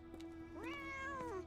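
A cat in the Sherlock Holmes: The Awakened game lets out a single drawn-out meow that rises and then tapers off, clear and close over a low steady background tone.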